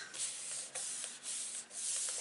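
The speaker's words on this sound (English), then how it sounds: "just close the card, rub your hand over" A hand rubs firmly over a closed paper pop-up card, giving a steady near, dry brushing swish in several continuous strokes with brief pauses between them, no voices.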